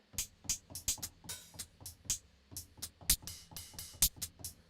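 Crisp, clean electronic hi-hat hits without amp processing tick in a steady, syncopated pattern, bright and dry with no distortion, played alone at a fairly quiet level.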